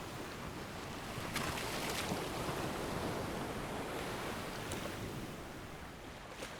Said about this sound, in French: Le bruit assourdissant du fracas des vagues contre les rochers l'isolait du reste du monde.